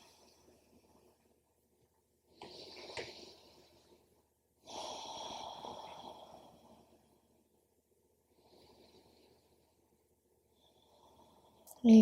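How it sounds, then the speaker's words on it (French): Deep breaths during a yoga hamstring stretch: two long, soft exhalations in the early middle, then faint breathing later and a brief sharp sound at the very end, otherwise quiet. "Encore 2 ou 3 respirations."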